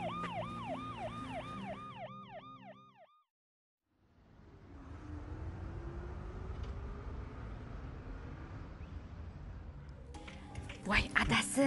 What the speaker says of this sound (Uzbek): Tez yordam keldi.